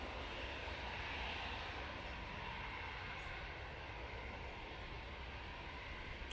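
A KLM airliner lands at Manchester Airport in gusty conditions, a continuous broad engine roar mixed with wind, steady and fairly loud throughout with no talk.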